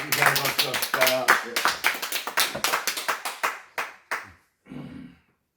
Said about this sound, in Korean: 감사한 박수 합시다